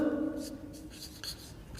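Marker or chalk writing a force equation on a classroom board, short scratchy strokes in quick bursts, close and soft, following a brief bit of speech.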